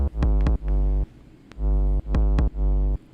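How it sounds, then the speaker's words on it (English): A Roland 808 bass drum sample with no pitch envelope processing, played five times in an uneven pattern of loud, deep, sustained booming hits, each ringing about half a second with a sharp click at the start. "it's an 808."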